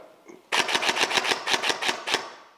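An airsoft gun fires full auto during an outdoor airsoft game at Anzio Camp, letting out one loud, close burst of about ten rapid, evenly spaced shots after a brief quiet moment.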